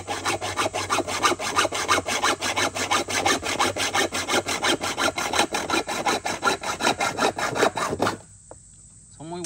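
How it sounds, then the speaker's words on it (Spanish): A hand saw cuts through steel rebar in fast, rhythmic back-and-forth strokes, loud and close, a harsh rasping that runs steadily for about eight seconds before stopping abruptly. "una sierra de estas, amigos. Con esta la estoy cortando aquí para que..."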